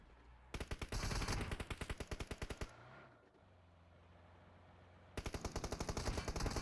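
Video game gunfire in a solo battle match: rapid automatic bursts of sharp, loud shots, a short lull with a low hum, then another fast volley.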